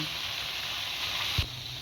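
Salted fish frying dry in oil over a low flame gives a steady, even sizzling hiss throughout, with one soft thump near the end and no voices.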